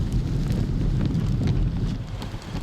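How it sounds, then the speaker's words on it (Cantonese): Strong wind and rain from Severe Tropical Storm Higos sweep through Hong Kong at night, a dense, roaring broadband wash with gusty bursts that hit the microphone, and no speech. "入夜之後，風勢同雨勢都明顯增強"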